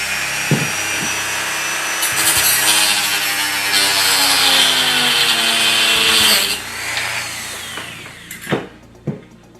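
Hand sawing through a piece of a BBC Micro computer case produces a loud, steady rasp of back-and-forth strokes for several seconds, then stops and is followed by a few sharp knocks.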